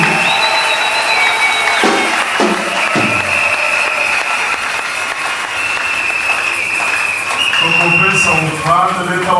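A church congregation at a deliverance service applauds loudly and continuously, dense clapping filling the room throughout, with a voice speaking over it near the end.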